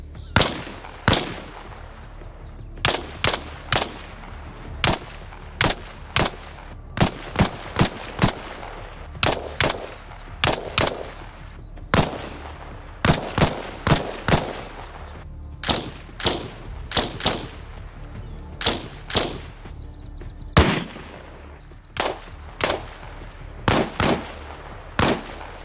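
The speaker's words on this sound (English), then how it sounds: "Each weapon has its own sound, both with and without a suppressor, so the sound itself hints at the weapon being used." Video game ARMA Reforger gunfire: repeated sharp shots and short automatic bursts in irregular volleys, loud and crisp over a low ambient bed.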